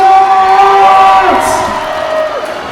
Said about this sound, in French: On va applaudir très fort pour la gagnante!